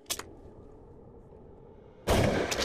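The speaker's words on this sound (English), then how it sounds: "Good shot, Jim." A single gunshot in a slasher horror film, a loud close blast cracking in near the end after a quiet stretch, with a brief sharp report at the start.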